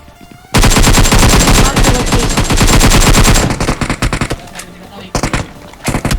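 Gunfire in a battle-royale style shooter game, a loud sustained burst of rapid automatic fire for about three seconds, then scattered shorter bursts and single shots.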